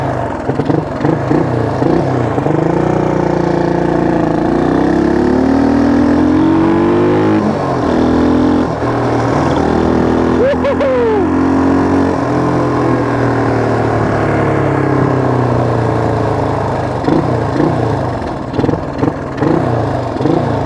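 Honda XL175 dual-sport motorcycle engine running steadily outdoors in snow and wind chill, a close, continuous single-cylinder drone with gentle rises and falls in revs throughout, reluctant to settle at idle.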